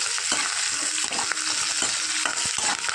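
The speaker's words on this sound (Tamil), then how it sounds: "பச்சை மிளகா, கறிவேப்பிலை போட்டு நல்லா கிண்டி விட்டுக்கோங்க." Green chillies and curry leaves stir-frying in hot oil, giving a loud, continuous sizzle punctuated by scraping knocks from a spoon stirring the pan.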